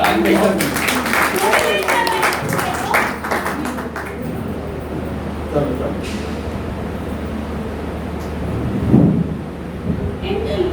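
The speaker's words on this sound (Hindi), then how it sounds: "ताली बजा लो भाई" A classroom group claps along during a toy-based learning lesson, a broad rattling patter of many hands under and between voices, with teachers talking throughout.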